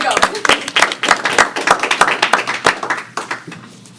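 An audience at a university business pitch competition gives a brief burst of clapping. Loud, close claps arrive in uneven clusters and thin out toward the end, with some voices mixed in underneath.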